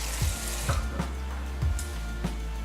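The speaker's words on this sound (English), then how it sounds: "You can hear the bubbles back there." Homemade pasta sauce bubbles and pops softly in a pan, with irregular plops over a steady background hiss.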